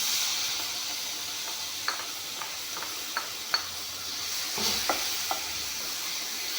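Paste of ginger, garlic, chili and onion frying in a pan, a steady close sizzle and hiss with several light scrapes and taps of a spatula stirring.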